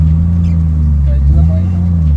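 A Nissan Skyline R33 that has sat unstarted for 11 months runs with a loud, steady low engine rumble that holds through the whole stretch, with people talking nearby.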